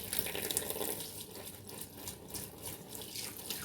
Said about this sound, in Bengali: এটাকে আমি সুন্দরভাবে ফ্রেশ করে ধুয়ে নিব